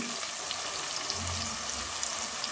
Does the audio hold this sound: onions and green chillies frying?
yes